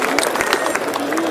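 A crowd at a Republic Day poetry gathering, Jashn-e-Hindustan, applauds continuously with dense, steady clapping and murmuring throughout the short stretch.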